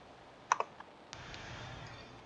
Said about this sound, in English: at the top, you want to type in schools.duolingo.com